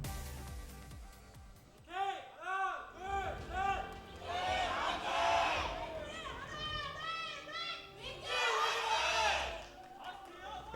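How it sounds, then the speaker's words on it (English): Fans of both teams at an Overwatch APEX esports arena match cheer and chant in rising waves, a loud and fairly near crowd with high excited voices throughout. "fans from both sides here trying to win that cheer war"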